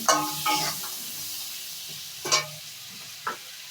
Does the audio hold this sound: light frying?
yes